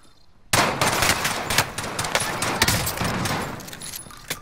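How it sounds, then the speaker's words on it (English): Loud, sustained automatic gunfire in a video game, starting abruptly after a brief quiet moment and continuing as dense rapid bursts with sharp individual shots, close and in the foreground. "Ryan, come and help me shoot him."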